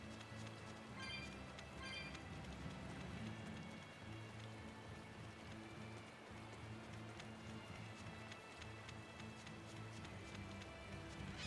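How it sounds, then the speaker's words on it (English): Rain falls in the video game Tales of Berseria, a faint, steady patter of drops on surfaces running continuously beneath soft in-game ambience, with no voices over it. "Plus it's raining here."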